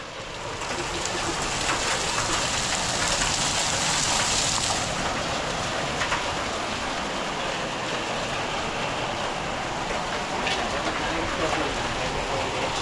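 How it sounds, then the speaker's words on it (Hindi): Steady, dense downpour with a hard rattling patter of hail striking surfaces in Uttarakhand, India, loud and continuous throughout, with voices audible underneath. "ये सारे ओले गिर रहे हैं।"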